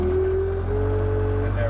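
A skid steer loader's engine idles steadily at close range with a low, even diesel drone, holding a constant pitch as the machine starts and begins moving.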